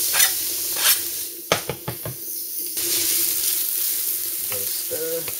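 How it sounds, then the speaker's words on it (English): Garlic and onion hit hot oil in a big pan for spaghetti bolognaise, starting with a few sharp clatters and stirs before a steady, loud sizzle settles in and continues throughout. "Chuck in your garlic and onion."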